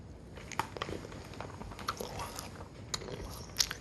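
Crunchy chewing of a toasted marshmallow Jelly Belly jelly bean, close and quiet, with irregular moist bites and clicks over several seconds.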